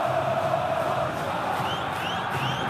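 Coritiba supporters fill a stadium with a dense, steady roar of crowd noise during a Copa do Brasil final against Vasco, the cheering sustained and broad with no distinct individual voices standing out.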